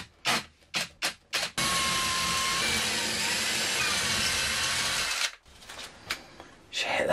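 A power drill bores steadily into a soft breeze block for several seconds, loud and close, preceded by a few short bursts of the drill.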